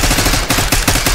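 Rapid bursts of automatic gunfire in Black Ops 6, loud and close, with several sharp cracks in quick succession over a dense, continuous barrage.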